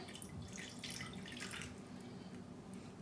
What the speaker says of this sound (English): now I'm gonna add in our one cup or one fourth cup of water